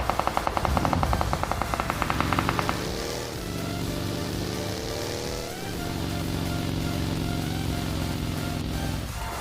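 Rapid automatic gunfire rattles in a squad battle video game, a quick burst of evenly spaced shots, then a loud vehicle engine revs and drones with shifting pitch for the rest of the clip.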